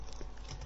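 Rapid keystrokes on a computer keyboard while entering a command in Windows Vista, a close, steady patter of clicks with no talking.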